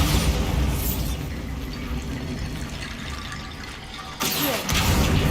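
A Bombarda spell blast in Hogwarts Legacy: a loud, broad explosive roar with rumbling debris that slowly fades, then a second sharp burst near the end, with no talking.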